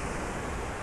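Ocean waves break at Laguna Beach, producing a steady, dense wash of surf noise that fills the whole moment without pause. No one speaks.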